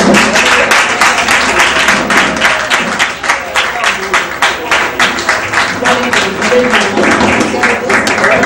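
A congregation claps loudly and rhythmically during a Brazilian church service, with sharp, regular beats running steadily throughout, backed by a murmur of voices.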